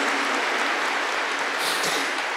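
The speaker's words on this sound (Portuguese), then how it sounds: "Vamos arrebentar numa salva de palmas por esta palavra de Deus, mas com força." Church congregation clapping together after a call to applaud God's word, a dense steady wash of hand claps sustained without pause, fairly loud and close, with no talking over it.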